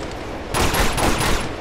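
Rapid burst of automatic gunfire from an AK rifle in Uncharted 2: Among Thieves Remastered, atop a moving train, loud and dense, starting abruptly midway and continuing without talk.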